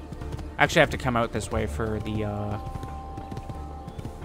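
Horse hooves clip-clop in Assassin's Creed II as a mounted character travels, a soft rhythmic patter under steady talk from a man.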